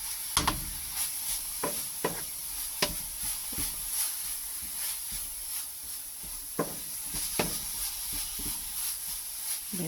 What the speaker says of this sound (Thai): แล้วก็คน ให้มะพร้าว ผสมกับ น้ำตาลแบบนี้นะคะ